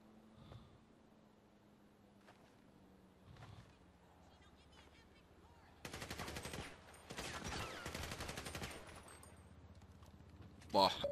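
Bursts of rapid automatic gunfire in GTA Online crackle loudly in the second half, preceded by quieter scattered shots and faint background noise.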